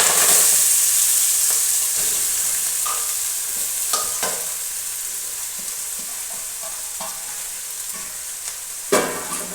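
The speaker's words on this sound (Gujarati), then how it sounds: "હવે આપણે નાખીશું હિંગ નાખીશું મેથી" Asafoetida and fenugreek leaves sizzle loudly in hot oil for methi bhaji shaak, a steady bright hiss that fades slightly, punctuated by a few clinks of a spoon stirring the pan, with one sharp clatter near the end.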